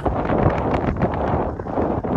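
Steady, strong wind at Avondale, Wicklow, Ireland, buffeting the microphone, a continuous broadband roar with gusty swells and no clear voices.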